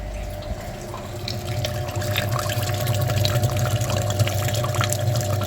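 Water runs steadily while flushing the coolant reservoir of a Renault Kangoo, a continuous close splashing and gurgling flow with drips, like a tap filling a basin, and no voices.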